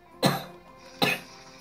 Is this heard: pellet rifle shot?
no